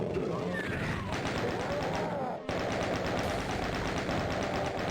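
Rapid, repeated shotgun blasts from the 1993 game Doom, a steady stream of loud close shots that fills the whole stretch, with a brief dropout in the middle.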